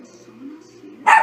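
A dog gives a single sharp bark right at the end, loud and close, following a stretch of low, quiet background murmur.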